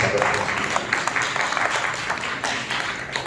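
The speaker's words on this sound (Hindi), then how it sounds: "जोरदार तालियों से स्वागत है।" Audience applause at a theatre evening of staged short stories, a sustained patter of clapping that swells and ebbs.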